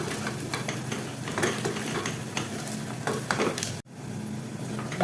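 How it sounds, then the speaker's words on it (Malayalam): Spice powders including cumin powder being stirred into lobia masala in a pan, steady close scraping and rustling strokes with light sizzle throughout, cutting off briefly before resuming. "പൊടികളെല്ലാം കൂടെ ചേർത്ത് നന്നായിട്ടൊന്ന് ഇളക്കി യോജിപ്പിച്ചെടുക്കാം"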